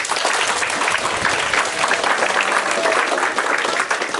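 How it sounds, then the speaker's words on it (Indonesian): Dense applause from a crowd fills the whole stretch, loud and steady, with a few voices faintly mixed in beneath the clapping. "Ayo tepuk tangan buat Arumi."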